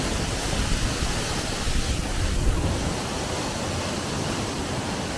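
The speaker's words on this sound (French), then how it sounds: "On arrive à la deuxième cascade." A dense, roaring wash of rushing water from a waterfall in Panama fills the scene, loud and unbroken, with wind buffeting the microphone.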